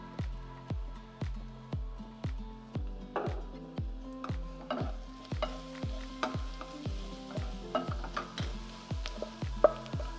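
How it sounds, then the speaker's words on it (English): Turmeric and hot chilli powder frying in a pan for chicken bunny chow, a soft sizzle under a regular series of sharp knocks, roughly two per second, that keep going the whole time. "Let those spices cook in"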